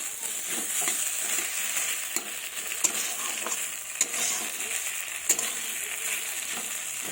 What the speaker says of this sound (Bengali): এইভাবে আমি কষিয়ে নেব